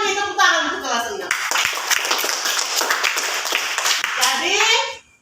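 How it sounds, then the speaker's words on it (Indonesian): A sixth-grade class claps together in a classroom, a dense burst of hand clapping lasting a few seconds, with children's and adult voices before and after. "Tepuk tangan untuk kelas 6."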